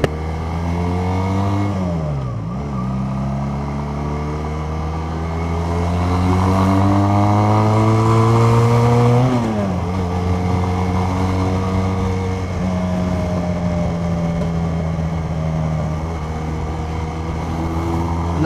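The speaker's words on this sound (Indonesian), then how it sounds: "Nenengin parah suara knalpot tembaknya." Loud Benelli Patagonian Eagle Motobi 250 motorcycle engine and exhaust revving up and down alone, with rising and falling pitch sweeps and a steady throaty idle between throttle blips.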